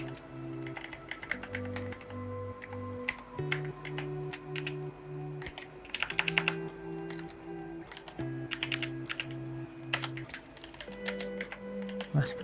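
PHP code being typed on a computer keyboard: steady, close key clicks in quick irregular runs over a sustained musical background of held tones, with no speech.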